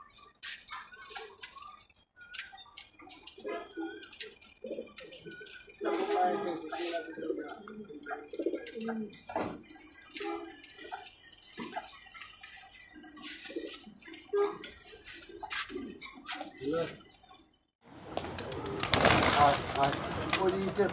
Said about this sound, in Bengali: কবুতরগুলা মাশাআল্লাহ দেখেন, খুবই সুন্দর কবুতর